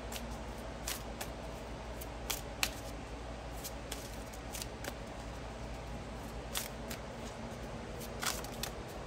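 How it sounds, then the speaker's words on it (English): Tarot cards being shuffled by hand in quiet room, soft papery riffles and sharp snapping flicks repeating irregularly, faint and close. "Why am I having such a hard time shuffling these cards?"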